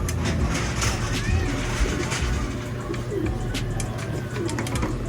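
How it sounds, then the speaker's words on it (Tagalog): Pigeons coo at a racing-pigeon fun race, a low repeated cooing half-buried in steady outdoor noise, with people talking in the background. "Ayun, may ibon"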